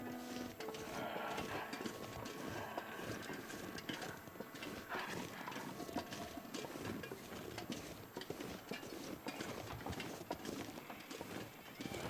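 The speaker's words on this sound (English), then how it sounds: "Horse." Horse hooves clip-clop amid a busy, dense soundscape in the survival video game The Long Dark, with a faint whinny and birdlike chirps mixed into the steady background.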